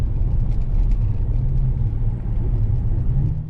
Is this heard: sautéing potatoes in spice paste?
no